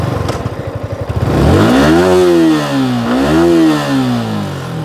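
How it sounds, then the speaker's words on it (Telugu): A Yamaha R15 V4 motorcycle engine blips at idle, then revs hard up to the rev limiter, climbing twice in loud, sustained sweeps that bounce off the limit before dropping back. "రెవ్ లిమిటర్ ఇదే అయ్యేటప్పుడు సార్ మీకు చూపిస్తాను."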